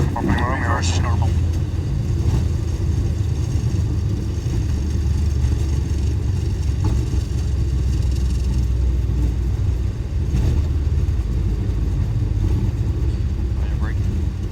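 Boeing 737 engines roaring in reverse thrust during the landing rollout at Rotterdam Airport, runway 06, a steady loud low rumble filling the cockpit, with brief radio and crew voices over it.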